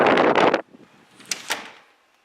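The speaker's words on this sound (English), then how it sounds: "when I close the door" A front door swings shut with a loud, close thud and latch, followed by softer rattling clicks as it settles, then near quiet.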